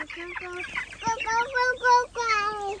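A chicken clucks in a rhythmic run of short, repeated calls up close, with a rising squawk near the end, during loading into a rebuilt chicken tractor on a farm.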